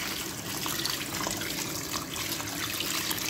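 Water pours steadily into a dish of meat set in an oven, a continuous hissing splash at moderate loudness with no talking.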